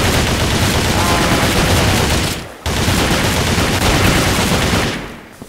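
Sustained, dense gunfire from a Facebook video game roars almost without pause, a loud automatic barrage that breaks off briefly midway, resumes, then fades near the end.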